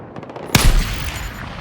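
Machine gun fire in the video game Battlefield 6: faint rapid pops lead into a loud, booming burst of gunfire that rings out and decays into a rumbling tail.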